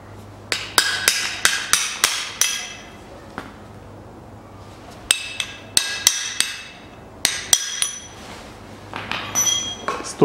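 Hammer blows ring out against a Chery Amulet 2010 1.6 front hub while knocking off a retaining clip: bursts of sharp metallic strikes in quick clusters, with pauses between groups and a low hum underneath.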